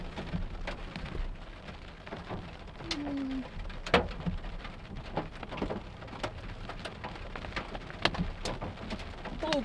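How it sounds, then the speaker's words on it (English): Hail and rain fall outdoors during a storm, with scattered sharp ticks of hailstones hitting surfaces over a steady patter of rain, and a dove cooing faintly in the background. "Hail. We're getting some hail."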